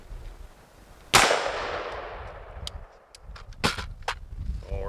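A single loud 6.8 SPC rifle shot fired at a Kevlar ArmorCore ballistic panel cracks sharply and rings off into a decaying echo, followed by faint clicks and small handling noises.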